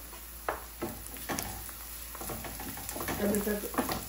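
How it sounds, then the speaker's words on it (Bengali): Chopped onion and a tomato fry in a home kitchen pan while being stirred, giving a soft sizzle with scraping stir sounds and occasional clinks at close range. "পেঁয়াজগুলিকে একটু ভেজে নেব।"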